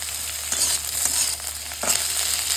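Capsicum and bell pepper pieces fry in a pan for dragon chicken, making a steady, close sizzle with short bursts of stirring and no voices.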